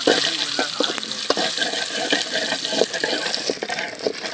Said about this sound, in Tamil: இப்போ நல்லா வெங்காயத்தை வணங்க விட்டுடலாம். நல்லா கிண்டிக்கோங்க.